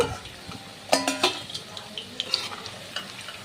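Half-fried jackfruit pakoras are lifted from hot oil in a home kitchen, soft sizzling under clattering spatula and pan knocks, with a few louder scrapes early on.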